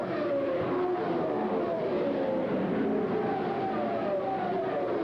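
Late-1970s USAC championship race cars at the 1978 Milwaukee 150 circulate through turns, engines droning steadily with rising and falling whines as they pass, loud and continuous throughout.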